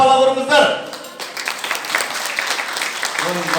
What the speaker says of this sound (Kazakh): әдемілі бір шапалақ ұрыңыздар.